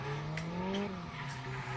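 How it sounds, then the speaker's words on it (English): A drift car at Mineral Wells squeals its tires as the brakes lock on corner entry, a sustained screech with engine drone running steadily through the whole stretch. "locking up the brakes on initiation right there"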